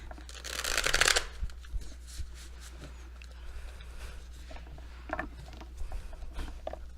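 Tarot cards being shuffled, a loud crisp riffle burst near the start followed by softer scattered card rustles and handling sounds, close up in a quiet room with a steady low hum.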